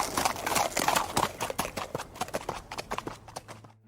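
Horse hooves clip-clop in a quick, steady rhythm as a prince rides off toward the palace, the sharp hoof strikes fairly close and clear before thinning out at the end.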